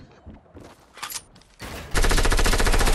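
After scattered game sounds, a dense, continuous burst of rapid submachine gun fire starts and holds steady to the end, loud and close in a video game firefight.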